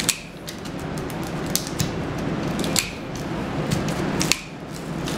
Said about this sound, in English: Cut this slow because these wires are a lot thicker, a lot more windings on this particular field.